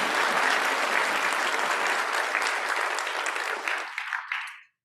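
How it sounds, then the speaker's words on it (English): A convocation crowd applauds with dense, steady clapping that tapers off and stops abruptly near the end. "Please join me in a round of applause to congratulate our colleagues."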